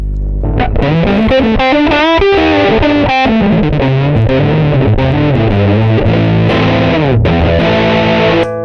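A heavily fuzzed, distorted electric guitar through an Electro-Harmonix Big Muff fuzz pedal plays a thick sustained riff alone, loud and saturated with bending notes.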